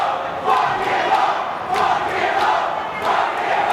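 Crowd at a live wrestling show shouting and chanting in loud, rhythmic bursts that swell and repeat several times, a dense roar of many voices filling the hall.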